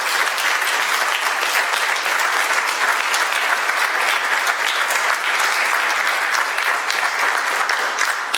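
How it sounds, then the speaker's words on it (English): Sustained applause from an audience at a city council meeting, steady dense clapping filling the room throughout. "would you mind just giving them a round of applause,"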